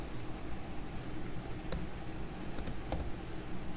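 Steady soft patter of typing on a computer keyboard as code is written, with a few sharper key clicks standing out, close and fairly quiet with no talking.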